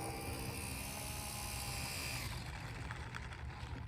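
A Super Cub S radio-controlled model plane taxiing on a smooth surface, its small electric motor giving a loud steady buzzing whine that eases off slightly partway through, close up with no talking.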